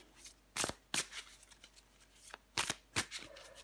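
Tarot cards being shuffled and drawn, several quick crisp riffling bursts in two clusters with quiet gaps between, close and fairly soft.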